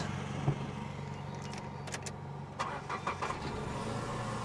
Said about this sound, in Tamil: இப்போ இந்த இன்ஜினை ஸ்டார்ட் பண்ணி இன்ஜினோட நாய்ஸ் எப்படி இருக்குன்னு கேட்கலாம்